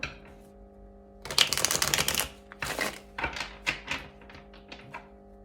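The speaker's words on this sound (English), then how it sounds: "go ahead and do one final shuffle" Tarot cards shuffled in quick riffling bursts, crisp rapid flutters followed by a few taps and thumps of the deck, close up with a faint hum behind.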